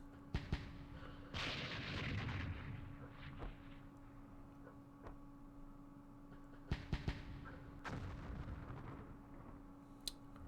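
Mortar fire in the Vietnam war game Campaign Series Vietnam comes as repeated deep booms and sharp blasts over a low rumbling backdrop, rising and fading in bursts.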